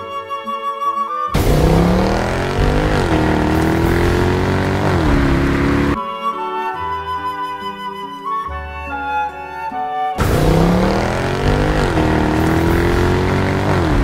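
A 2014 Mercedes-Benz C63 AMG Edition 507 wagon's engine and exhaust roar loudly in two long, rising bursts, with a stretch of music playing between them.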